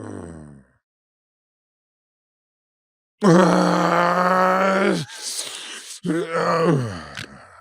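A man makes loud, drawn-out groaning snore imitations, two heavy rasping bursts after a brief silence, mimicking choked, gasping snoring.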